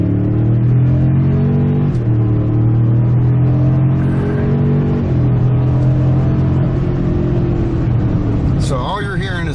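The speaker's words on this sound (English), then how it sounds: "So all you're hearing is fake sound for the engine." A 2023 Toyota Tundra Platinum twin-turbo V6 accelerates hard with a synthesized engine sound in the cabin, a loud, steady droning hum rising slowly in pitch, with someone talking over it.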